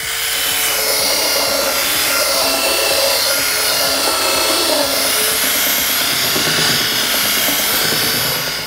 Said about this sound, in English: give it a good sanding down first, and I'm going to use a belt sander